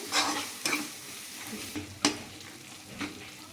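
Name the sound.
spice masala being stir-fried in a pan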